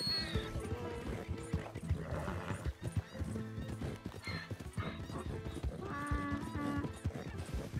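In Red Dead Redemption 2 gameplay, a horse neighs and whinnies loudly while its hooves clip-clop steadily in a close, busy trotting rhythm, with a voice talking faintly in places over the game sounds.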